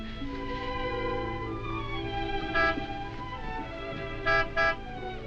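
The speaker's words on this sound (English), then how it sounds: "You know Martin would never honk a horn at a lady" A 1940s car horn gives one short toot, then two quick honks close together, sounding over soft background music with no one speaking.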